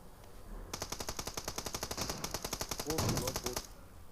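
Rapid automatic gunfire from a PUBG Mobile match on the Sanhok map rattles in a long even burst of shots, fairly loud, with a brief voice-like sound near the end.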